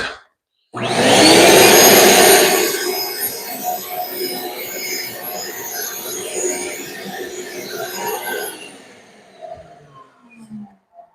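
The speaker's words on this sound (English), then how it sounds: "And I'll use my vacuum to clean a little bit." A vacuum cleaner runs across a floor being prepped for tile installation, starting abruptly with a loud whining roar that settles to a steady hum and then cuts off, followed by a few faint knocks.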